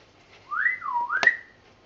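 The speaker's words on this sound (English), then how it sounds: "I'll whistle for her." A person whistles a loud, close, two-part call that swoops up and down to summon someone. The whistle stands alone with no talk.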